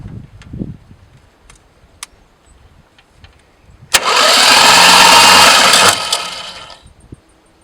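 A 1973 Plymouth Duster with a Slant Six engine cranks over for about two seconds in a loud, steady churn, coming after a few quiet clicks and rustles and settling back to near silence.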